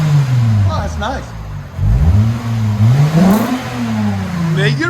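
A 2008 Lexus IS 250 with a 2.5L V6 and Megan Racing axle-back exhaust revving up and down, loud and close, with deep rising and falling engine tones and brief voices partly over it.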